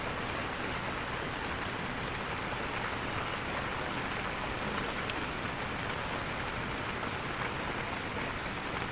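Steady, even rain pours down in Sapa during the rainy season, a dense continuous hiss of drops on surfaces, fairly close, with no talking.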